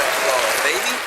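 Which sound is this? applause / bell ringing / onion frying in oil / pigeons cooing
applause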